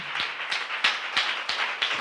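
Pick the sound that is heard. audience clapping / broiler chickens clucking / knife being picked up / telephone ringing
audience clapping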